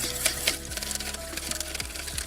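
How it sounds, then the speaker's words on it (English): Uni puree whisked with heavy cream and grated Parmesan makes quiet, rapid, rhythmic clicking and scraping against the bowl, with no talking. "now I'm just gonna whisk everything together"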